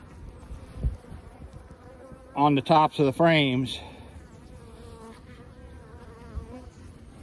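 A steady low insect drone of honeybees in a Layens hive hums throughout, broken midway by a few seconds of someone talking close by.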